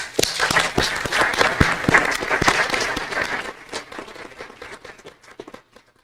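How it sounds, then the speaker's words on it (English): Applause for police recruits fills a council meeting chamber: a dense burst of many hands clapping close by for about three seconds, then thinning into scattered claps that trail off. "So recruits, I want to say thank you and give you guys a round of applause."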